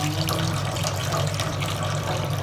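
Water pours steadily out of an opened can of sweet corn, a continuous close splashing trickle over a low background hum, with no talking.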